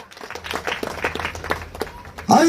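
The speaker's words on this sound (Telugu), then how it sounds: "చప్పట్లు కొట్టండి" A church congregation breaks into a short burst of clapping during a sermon, coming in loud near the end after a stretch of scattered, softer sounds.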